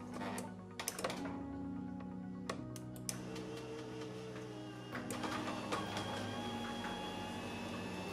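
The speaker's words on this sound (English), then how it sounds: "I connect contacts 1 and 2, and the motor starts up" A garage door opener motor starts up and runs, a steady mechanical drone with whirring tones and a few clicks and knocks near the start, continuing evenly for several seconds with no voices.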